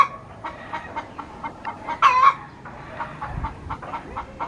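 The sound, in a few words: chickens clucking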